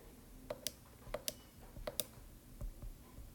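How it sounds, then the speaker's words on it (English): Calculator buttons click in quick, sharp taps, several presses in small pairs with pauses between, faint and close against a quiet background hiss. "Can you hear my calculator clicking in the background?"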